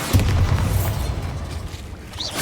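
A Bombarda blasting spell explodes in Hogwarts Legacy: one loud, deep boom hits right at the start, then rumbles and fades over a couple of seconds, with a faint magical shimmer at the end.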